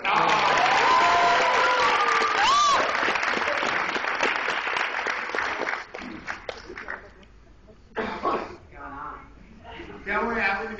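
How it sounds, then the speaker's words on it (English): Loud sustained applause from a crowd at an acting workshop at an anime convention, with shouting voices over it, fading into scattered claps and talk. "Give him a round of applause."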